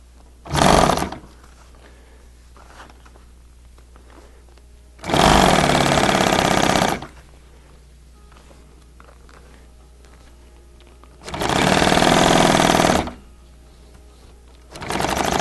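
Sewing machine stitching in three loud bursts of rapid whirring, with a short first burst and two longer runs, separated by quiet pauses, close up.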